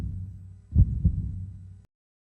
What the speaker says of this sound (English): The only thing I could hear was my own heartbeat.